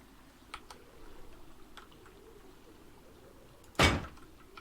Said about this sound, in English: And then what we would do is pop a garage door on there.